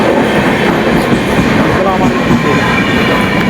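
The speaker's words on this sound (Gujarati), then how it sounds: "તો ગાઈસ અમારે ટ્રેન આવી ગઈ છે" A passenger train arrives at a railway station in Gujarat, its loud, continuous rumble and rattling wheels filling the whole stretch close by.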